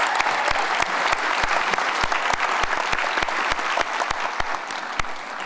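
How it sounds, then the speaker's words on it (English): A ceremony audience gives award winners a sustained round of applause at a 2022 Otterbein celebration, dense, even clapping from many hands filling the room without pause. "Let's give one more round of applause for these award winners."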